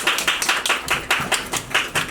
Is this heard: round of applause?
yes